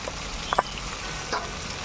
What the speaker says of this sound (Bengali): বন্ধুরা, এখন আমরা পেঁয়াজ কুচি এবং লঙ্কাটা ঢেলে দেবো।